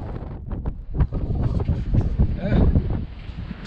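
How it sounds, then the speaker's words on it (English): Strong wind buffets an outdoor microphone on a high, exposed spot, a loud rumbling roar with gusty swells throughout, while someone talks over it. "You get a ton of wind, and it's pretty bad."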